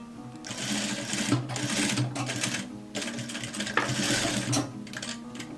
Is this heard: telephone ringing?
no